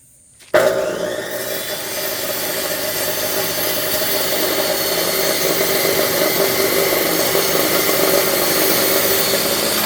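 Chainsaw running after cutting firewood outdoors at a country house: after brief silence the engine snaps on loudly and keeps droning at a steady, close idle for the rest of the stretch, with no one talking.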